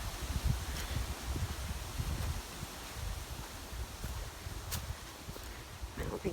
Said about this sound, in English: Oh yeah, there's the wind.